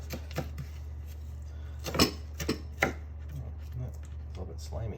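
Green onions are chopped on a board with a knife, a handful of crisp uneven thuds over a steady low hum, close and clear with no one speaking.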